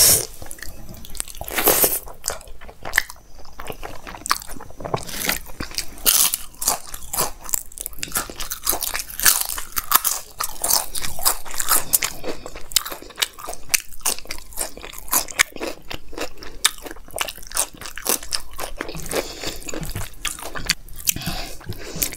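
Close-up crunching and chewing of an Indian meal of rice, dal tadka, paneer, cauliflower and pickle, with irregular crisp bites and wet mouth sounds repeating over about twenty seconds, no talking.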